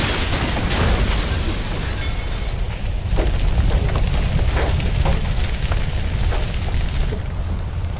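Explosion in the video game Resident Evil 6: a dense, sustained roaring blast with crackling debris and scattered pops, loud and continuous throughout with no talking.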